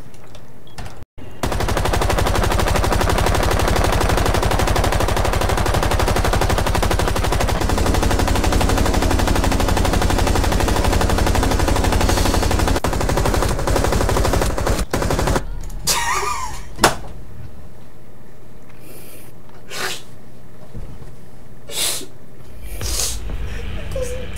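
Gunfire in Rainbow Six Siege, heard as a long, dense, continuous automatic burst for about fifteen seconds, then quieter scattered shots and sharp impacts.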